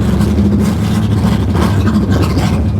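Hilborn-injected 1957 Chevy engine idling roughly, a steady, loud low rumble with uneven pulsing that runs continuously up close with no talk over it.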